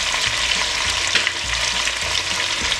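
Cooked nopales, boiled with garlic, onion and salt, drop into a pan of beef ribs in red sauce, setting off a loud, steady sizzle and frying hiss with stirring throughout, no voices.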